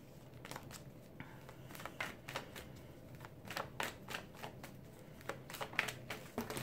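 A tarot deck is handled and cut into piles on a table, giving a string of crisp card slaps and riffles at an uneven rhythm, close and fairly quiet, with no talking.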